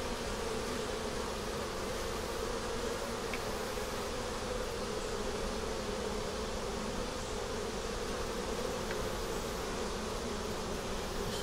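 Honey bees at an open hive make a dense, continuous buzzing swarm drone, steady and moderately close, with no talking.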